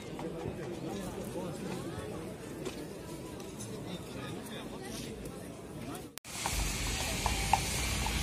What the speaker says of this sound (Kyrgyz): Кетті 150 мыңдік ат.